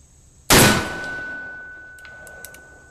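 A black powder load fired from a Colt .45 Single Action Army revolver outdoors: one sharp, loud gunshot with a long decaying boom, then quiet with a few faint distant clicks.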